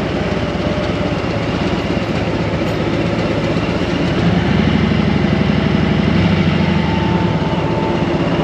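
A train rumbles steadily from onboard, loud and continuous, with a rhythmic clatter of wheels on track growing heavier midway.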